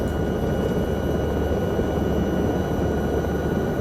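An AS315B Lama helicopter flies in Microsoft Flight Simulator 2024, giving a steady, continuous engine and rotor drone with a broad, even roar and faint high whine that holds constant throughout, with no talking.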